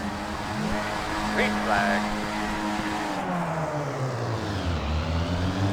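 Several Skip Barber race cars rev and rise in pitch at a race start in iRacing, with engine tones climbing and overlapping under continuous commentary.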